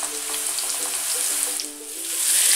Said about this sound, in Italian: Aggiungiamo la salsiccia rompendola con le mani